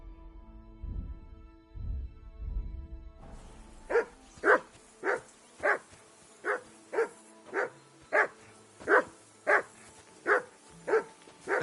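A dog in Kingdom Come: Deliverance 2 barks in a steady series of about a dozen sharp, evenly spaced barks, close and fairly loud, starting after a low rumbling stretch.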